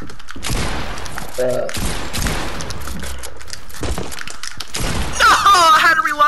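Rapid video game gunfire in a shooter, with dense bursts of automatic shots running nearly throughout, loud and close, under excited talk between players, with a sharper metallic rattle near the end.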